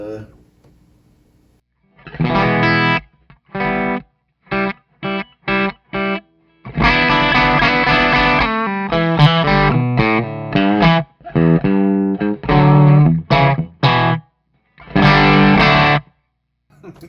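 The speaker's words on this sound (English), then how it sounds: "That guitar sounds really good too." Distorted Suhr Telecaster-style electric guitar played through a Cornford Hellcat amp, loud and close, in short chopped chords and bursts with brief silences between phrases.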